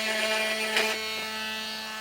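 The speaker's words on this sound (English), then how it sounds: "Now I'm just going to use my multi-tool cutter and just get that plastic cut out of the way." A multi-tool cutter cuts through a plastic vehicle bumper with a close, steady, high-pitched oscillating buzz and a brief louder rasp near the start.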